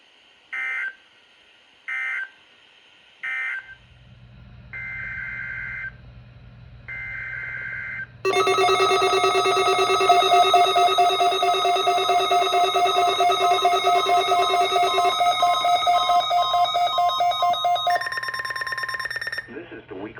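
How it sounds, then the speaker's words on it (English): A NOAA Weather Radio receiver plays its weekly test tones. Short electronic beeps and burst tones come first. A loud, sustained warning alarm tone follows, changes pitch near the end, then stops. "This is the weekly test of the NOAA radio warning device."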